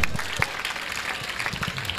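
Audience applause at a community thank-you gathering after an educational guidance camp, a steady crowd clapping that rises in scattered bursts, fairly close and continuous throughout with no voices on top.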